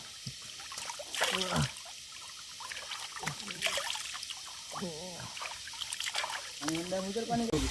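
Water from Khoiyachora waterfall in Sitakunda trickles and splashes nearby, a soft, uneven flow heard beneath someone talking almost throughout.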